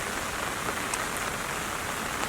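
Steady rain falls over a garden where bare root trees are being planted, a dense, even hiss of drops with no talk.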